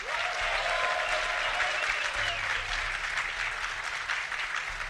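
Sustained applause and cheering from an esports crowd greeting a StarCraft player at DreamHack Summer 2011, steady and dense throughout with no pauses.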